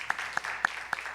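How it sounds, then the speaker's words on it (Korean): Church congregation clapping during a service, heard as a few crisp, evenly spaced claps in a steady rhythm, fairly quiet in a hushed room. "우리 박수 한번"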